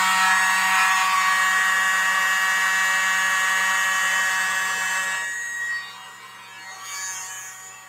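A leaf blower dries poured acrylic fluid art paint, a loud steady high-pitched whine that holds for several seconds, then drops away and fades with a short final burst.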